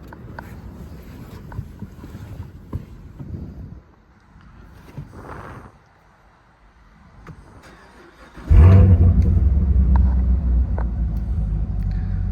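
A Chevrolet Camaro convertible with a 6-speed manual transmission and 17,100 miles cranks and fires up, settling into a loud, steady, deep idle rumble after a quieter stretch of faint background noise.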